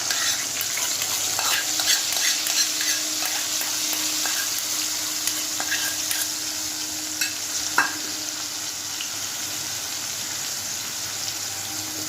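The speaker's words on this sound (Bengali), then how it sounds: "এটাকে আমি ভালো করে কষিয়ে নিচ্ছি" Masala paste, chopped tomato, whole garam masala and a dried chilli fry and are stirred in a pan, giving a steady close sizzle with occasional scraping knocks from the spoon, no voices.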